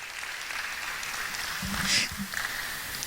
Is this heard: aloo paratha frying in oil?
no